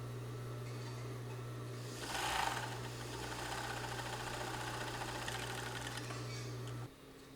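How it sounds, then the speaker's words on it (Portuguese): A domestic sewing machine runs an overlock stitch along cushion fabric, a steady, quiet mechanical whirr with rapid needle clatter and a brief louder surge, stopping abruptly near the end. "Agora aqui vai ser o acabamento de overlock, que vai dar um ponto diferente."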